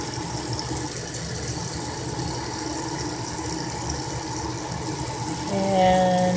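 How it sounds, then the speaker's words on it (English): An eye makeup brush is rinsed under a steady stream of running tap water, a continuous close splashing that swells louder near the end. "And give it a rinse."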